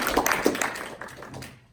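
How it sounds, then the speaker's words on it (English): A small audience gives a brief round of applause, a scattering of individual claps at close range that thins out and fades within a couple of seconds. "Let's give a round of applause."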